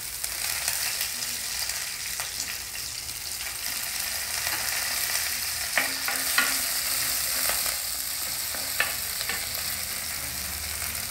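Cumin seeds, chopped green chilies and curry leaves sizzle in hot oil in a pan, a steady bright crackling hiss punctuated by small pops and occasional stirring clicks, close and alone.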